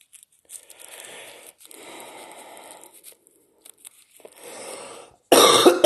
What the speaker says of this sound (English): I got a badass cough